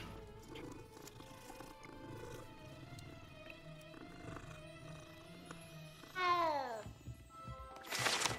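A cat meowing in the Hogwarts Legacy video game, a short rising-and-falling meow near the end over steady game music and ambience, moderately loud and close.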